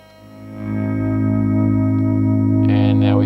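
A sustained electric guitar chord through a Red Witch Lily boost pedal rings out, growing louder and thicker as the boost is added, with a brief brighter strum near the end.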